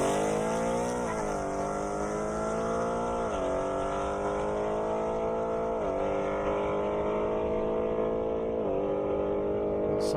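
A Ford Mustang GT and a Jaguar F-Type drag race side by side down a half-mile airport airstrip, their engines howling loud and continuous with repeated rising pitch sweeps as they shift through gears.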